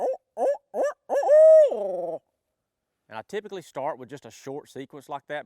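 A voice mimics an owl with a short run of rising-falling hoots ending in a drawn-out call, used as a turkey-hunting locator call, then speaks normally after a brief pause.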